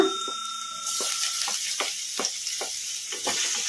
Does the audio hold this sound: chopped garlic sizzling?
yes